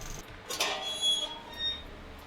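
A creaking video-game door gives a short squeak that rises and falls over about a second and a half, mid-level and close.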